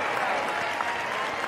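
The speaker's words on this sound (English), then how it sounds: "there's his family cheering that one on" Cheering and applause from a player's family in the stands after a leadoff single at a 2020 college baseball game between Boston College and Clemson, a steady crowd wash holding through the whole moment.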